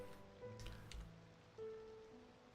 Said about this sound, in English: It's raining. It's finally raining.